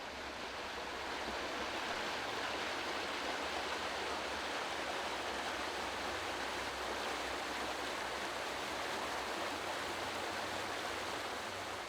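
Steady broadband rush of the River Piddle flowing past North Mill in Wareham, a continuous close water sound with no voices and no breaks.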